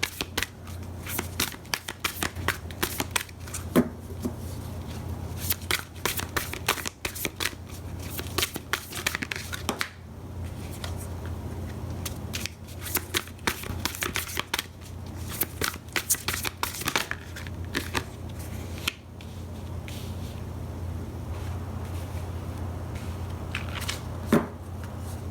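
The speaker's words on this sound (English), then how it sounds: "you have to wait for me to shuffle" A deck of cards shuffled by hand at close range, riffles and bursts of rapid flicking repeated again and again over a low steady hum, with brief pauses between rounds and no talking.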